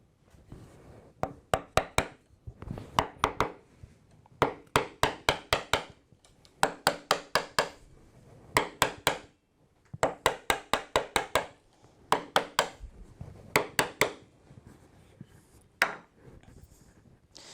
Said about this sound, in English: I've got to be very careful to make sure that the chisel is in line with this angled wall. So I'm going to take little bits at a time, gradually working back.